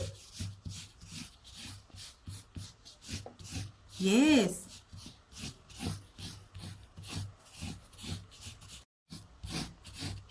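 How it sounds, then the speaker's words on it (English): Green coloring on white paper for a children's craft, a rhythmic scratchy rubbing of strokes repeating steadily and close, with one brief spoken word partway through. "I am coloring this white paper with green color."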